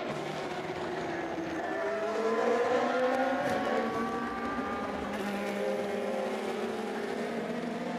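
Race car engines at the 2020 24 Hours of Le Mans, a steady loud drone with pitch sweeps as cars pass, continuous with no break and no voices.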